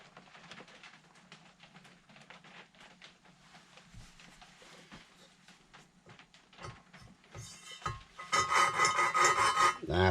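Hand-lapping a valve into its seat on a Kawasaki Zephyr 750 cylinder head, producing a steady, close rasping grind of back-and-forth strokes that grows louder and harsher toward the end.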